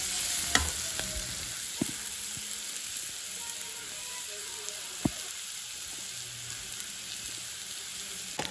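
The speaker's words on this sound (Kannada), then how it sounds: "ಇದೆಲ್ಲ ಚೆನ್ನಾಗಿ ಫ್ರೈ ಆದಮೇಲೆ ಇದಕ್ಕೆ ರೈಸ್ ಮಿಕ್ಸ್ ಮಾಡೋದು ಅಷ್ಟೇ" Rice stirred and fried in a pan, with a continuous soft sizzle and occasional clicks and scrapes of a spatula against the pan, fairly quiet and with no voices.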